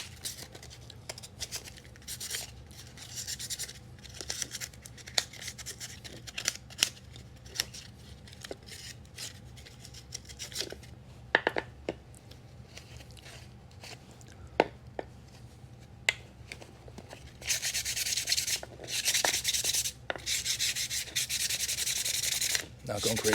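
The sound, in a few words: sandpaper sanding a rotten pool pump motor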